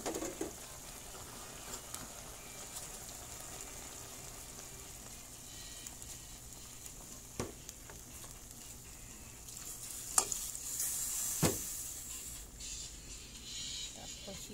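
Vegetables with sweet potato tops and alugbati simmer in coconut milk for Filipino ginataang gulay, a low steady bubbling sizzle under faint stirring, with a few brief sharper clinks.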